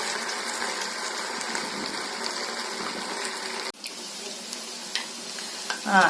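Sago bondas deep-fry in oil over a low flame, giving a steady, close bubbling sizzle. It cuts abruptly partway through and resumes with a few louder crackles and splutters near the end.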